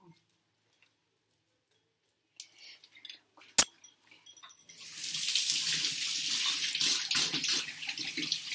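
Water is scooped into a hand while making sesame laddoos: a few small clicks and taps, then a steady trickle of running water that continues at moderate loudness.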